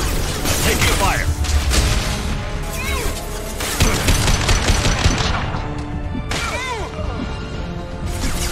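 Gunfire rattles through a chaotic firefight in Mass Effect 2, with dense bursts of automatic shots, sharp impacts and crashes layered over a loud, busy battle mix, with voices in the background.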